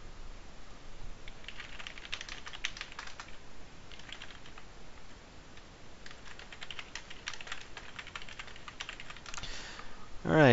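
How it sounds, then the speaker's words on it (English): Soft, rapid clacking from a computer keyboard during a sim racing session, irregular bursts of keystrokes that are steady and fairly quiet throughout. "I guess you can hear my typing."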